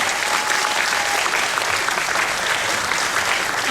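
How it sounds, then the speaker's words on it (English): A hall audience applauds the graduating class of 2024 at a school graduation ceremony: steady, dense clapping from many hands that continues evenly throughout. "Please give them a round of applause."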